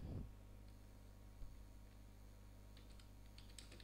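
Faint, sparse key taps from a computer keyboard while entering a spreadsheet formula in Excel, quiet against a steady low background hum, with a few light clicks clustered near the end.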